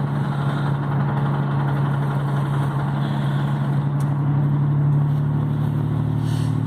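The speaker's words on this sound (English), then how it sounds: "this motor definitely doesn't sound good at all" A worn Chevy 305 small-block V8 idles rough and loud at close range, with a steady low rumble and an uneven, lumpy beat throughout.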